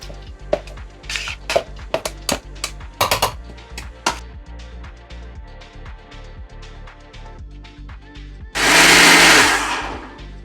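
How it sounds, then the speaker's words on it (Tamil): Mixer grinder blending sautéed masala for a hotel-style chicken curry, a loud whirring burst near the end after a stretch of clattering, tapping kitchen handling sounds. "இப்போ நம்ம வதக்கி வச்சுருக்கிற மசாலாவை மிக்சியில் போட்டு"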